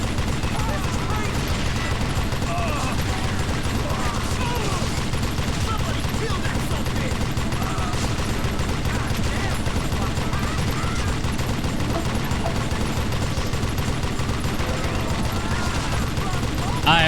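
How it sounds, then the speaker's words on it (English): Rapid, sustained Gatling gun fire in the Western shooter Call of Juarez: Gunslinger, a dense unbroken rattle of shots lasting the whole stretch at steady loudness, with a voice talking over it. "Gatling gun."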